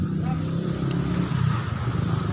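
Motorcycle engines idle and rumble close by under steady outdoor noise, with faint talk mixed in.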